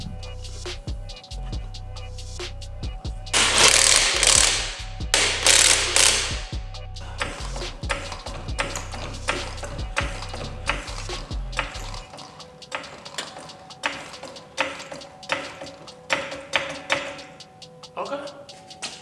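Camber adjustment being turned on a Lexus LS400's suspension, with a low mechanical hum and clustered metallic clicks and knocks from tools, close by, while a person talks intermittently.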